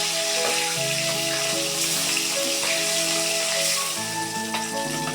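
Silver carp fish pieces, coated in turmeric and salt, frying in white cooking oil in a wok, with a steady dense sizzle and crackle throughout, close and loud, alongside clinking tones of utensils.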